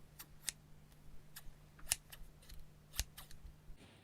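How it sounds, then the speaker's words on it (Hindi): Scissors snip open and shut at close range as the answer to a sound guessing game, giving a few sharp, separate metallic cuts spread over four seconds against a faint steady hum. "गाइस सवाल का जवाब सीजर है"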